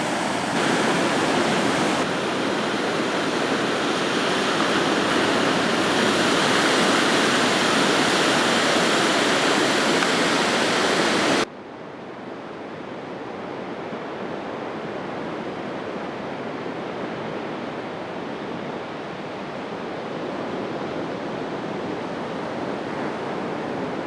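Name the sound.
violent ocean waves crashing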